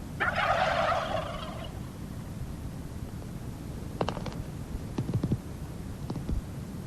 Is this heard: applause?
no